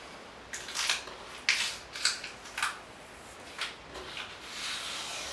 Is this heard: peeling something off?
yes